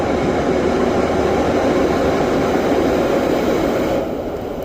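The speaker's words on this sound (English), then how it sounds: "the carriages move, so you cannot have your wheels on one and not the other" Car-transport train carriages on the Furka pass rumble loudly and continuously from inside a Carado T132 motorhome, a heavy rolling drone that eases slightly near the end.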